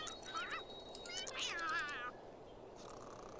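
Cats meow in The Sims 2 video game: two or three fairly quiet, rising and falling meows in quick succession over a soft background hiss.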